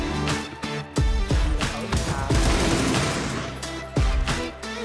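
Heavy gunfire in PUBG during an esports scrimmage, loud repeated shots and bursts with booming low impacts in quick succession, close and continuous.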